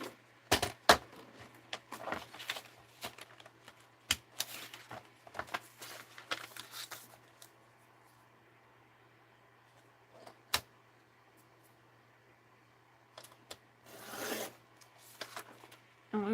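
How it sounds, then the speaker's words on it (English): A paper trimmer slices card into a strip about four inches high, giving a series of short, close scraping and rasping strokes separated by quiet pauses. "I want to cut it with my"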